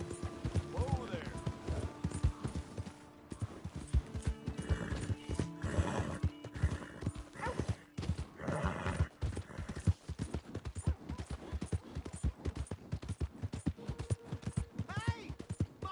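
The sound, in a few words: horse hooves and whinny in the video game Red Dead Redemption II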